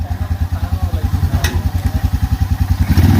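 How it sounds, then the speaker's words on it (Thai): Tuk-tuk engine running with a steady, rough pulsing throb up close, a sharp clunk from a hard gear shift partway through. "เวลาสับเกียร์ทำไมต้องสับขนาดนั้นขนาดนะ"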